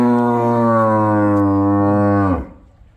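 A French cream cow, a heifer pregnant with her first calf, gives one long, loud moo close by. The moo holds steady, then cuts off and leaves near silence.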